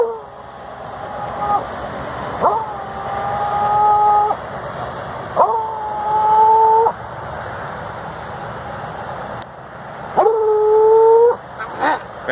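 An American Foxhound yelps and whines in drawn-out, high-pitched bursts while hunting an armadillo that has gone into its burrow, several separated by pauses, fairly close, with someone talking in between.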